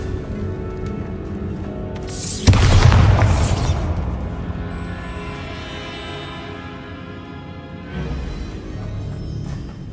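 A Bombarda spell explodes in Hogwarts Legacy: one loud, sudden boom that rumbles and fades over about a second, with no voices around it.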